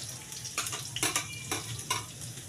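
Aromatics drop into hot oil for chicken feet adobo, giving a soft sizzle and frying crackle with a few stirring scrapes and bursts, fairly quiet and close.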